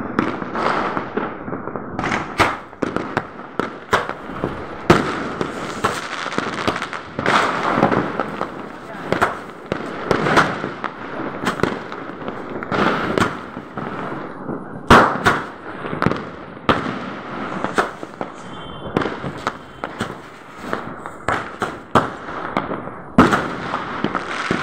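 Firecrackers and fireworks burst in a rapid, irregular barrage of sharp cracks and pops, some loud and close, with people talking and calling out between the blasts.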